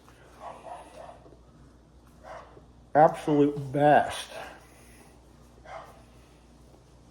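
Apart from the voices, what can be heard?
dogs barking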